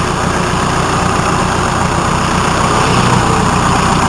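A Hyundai Starex diesel engine idles steadily and close by, a continuous low rumble with a faint rattle that holds an even level throughout, with no voices over it.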